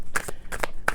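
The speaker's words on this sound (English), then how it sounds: "So I'm gonna pull cards on that" Tarot cards being shuffled by hand, three quick crisp riffling bursts close up within a second, no talking.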